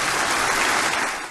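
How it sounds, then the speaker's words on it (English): Brief, loud burst of cheering and applause from a church congregation welcoming a pastor at a Sunday morning service, a dense wash of clapping that fades slightly at the end. "Pastor John MacArthur was welcomed during the service this morning with cheers and applause"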